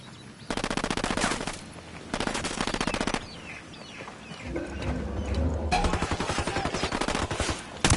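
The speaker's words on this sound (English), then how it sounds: "I'm opening fire on these shitheads." Bursts of automatic gunfire in Ghost Recon Wildlands come in three loud rapid volleys separated by brief pauses, with quieter ambient game sounds between them and no voices.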